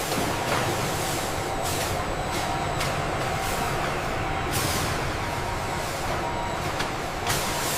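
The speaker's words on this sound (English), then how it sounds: "Container trucks transport finished garments from the factory to major international shipping terminals." Container trucks pulling away from a garment factory, a steady loud drone of diesel engines and road noise with hissing air-brake bursts and faint high beeps over the rumble.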